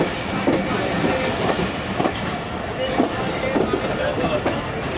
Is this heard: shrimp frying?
no